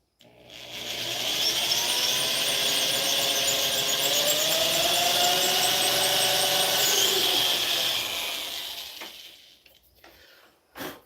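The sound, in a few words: drill bit drilling wood for a pipe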